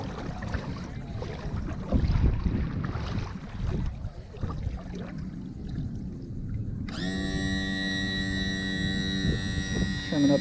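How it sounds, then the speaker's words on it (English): A Mako Pro Skiff 17 boat runs on a tidal creek at high tide, with water rushing and splashing against the hull at first, then a steady outboard engine hum takes over in the second half. "Boat's looking amazing, running good."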